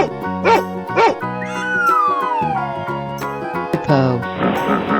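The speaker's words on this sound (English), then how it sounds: "Dog." A cartoon dog in a 3D animal slide video game gives two quick barks near the start, followed by a long falling whistle over bright, steady game music.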